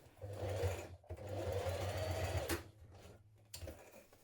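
A home sewing machine runs close by, stitching a trouser hem with a steady mechanical whir in two bursts and a brief pause between them, without talk.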